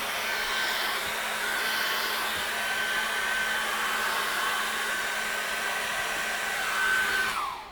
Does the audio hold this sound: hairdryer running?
yes